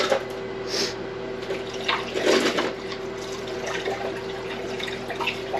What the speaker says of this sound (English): Pour most of the acid back into the container.